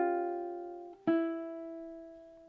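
A single ukulele measure from a song: a held open-string chord rings, briefly dips, then a fresh plucked note rings out clearly and slowly fades, played alone.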